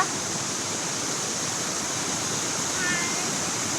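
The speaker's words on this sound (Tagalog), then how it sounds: "You like the falls?" Steady rushing roar of a waterfall in the mountains of Trabzon, Turkey, close and unbroken throughout with no voices heard.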